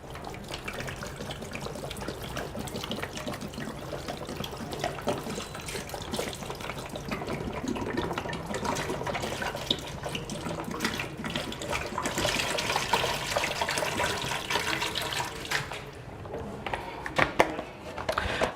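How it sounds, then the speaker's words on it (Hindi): Water pours steadily into the jar of a Kangen water machine during a deep-cleaning process, a continuous splashing, trickling flow lasting throughout, close and fairly quiet, with no talking. "तो जैसे आप देख रहे हैं 2 लीटर पानी मैंने इसके अंदर डाला है।"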